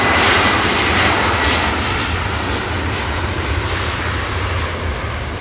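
A TAP Air Portugal airliner takes off at Manchester Airport, its jet engines making a loud, sustained broadband roar that holds steady throughout.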